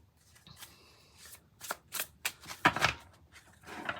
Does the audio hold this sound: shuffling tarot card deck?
yes